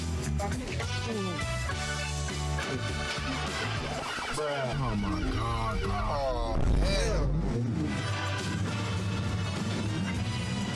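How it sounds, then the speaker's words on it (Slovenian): A loud classic car engine runs close by, with rising and falling revs that come through in bursts. People talk over the engine throughout. "Avto je tako glasen, to je tako cool, je veliko glasnejši od Cybertrucka."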